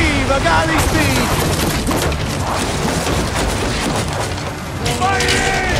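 Galley weapons fire during a naval battle in Assassin's Creed Origins, with heavy booming volleys and crashing impacts layered over a dense, constant battle din and shouted voices.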